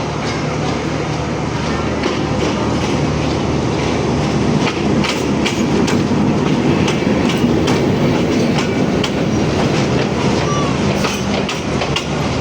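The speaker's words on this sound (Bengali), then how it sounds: "সান্তার থেকে ছেড়ে আসা লালমনিরহাট অভিমুখী 19 আপ বগুড়া কমিউটার ট্রেনটি আর অল্প কিছু সময়ের মধ্যে গাইবান্ধা স্টেশন প্রবেশ করবে।" Bogura Commuter train, the 19 Up service bound for Lalmonirhat, rolling into Gaibandha station in Bangladesh, with steady loud wheel rumble and clickety-clack over the rails throughout and a few metallic squeals, no talking.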